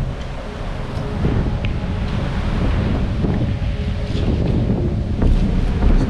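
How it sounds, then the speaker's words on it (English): Strong wind blows after Hurricane Nicole, buffeting the microphone with a continuous, loud, rumbling roar that surges slightly and carries no speech. "Still kind of windy out."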